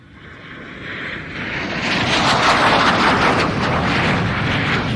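Airplane making a low pass at the Joint Base Lewis-McChord airshow, its engine roar swelling from a distant drone to a loud, broad rush as it passes overhead, then holding strong.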